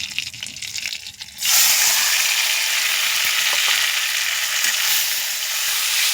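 Ground banana stem paste dropped into a hot pan, the sound jumping after a quieter moment into a loud, continuous close sizzle and hiss that holds steady to the end.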